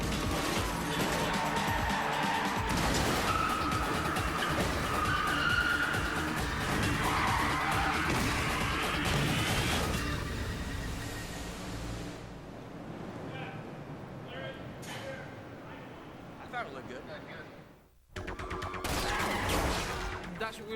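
A movie car chase with skidding cars and gunfire: dense, loud, continuous roaring engines, tire noise and crash-like bursts, which thin out briefly before a final loud burst.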